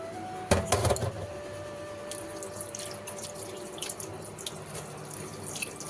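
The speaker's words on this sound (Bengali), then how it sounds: "মাছগুলো আগে ধুয়ে নিই।" Fresh and older fish, including katla, are rinsed under a running kitchen tap, with a clatter of handling at the start and then a steady faint hiss of flowing water and small splashes.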